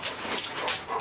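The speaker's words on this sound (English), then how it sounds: "I got a nosy dog here" A nosy dog whimpers and yips in short, high bursts, close by and fairly loud over a brief moment, with no talking.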